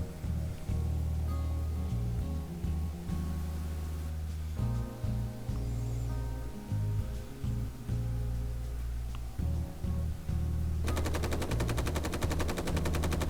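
Rapid bursts of gunfire from the Space Engineers video game crackle repeatedly at the player, loud and close, with a dense rattling stretch toward the end and no talking.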